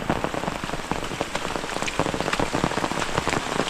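Heavy monsoon rain pours down in a Konkan village, a dense, steady patter of drops striking surfaces all around, loud and continuous throughout with no voices.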